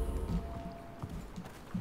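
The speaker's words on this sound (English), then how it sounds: "There's a goat outside." Goat hooves clatter on a roof in the survival game Icarus, giving a quick run of light, hollow clip-clop steps that stay fairly close and steady over about two seconds.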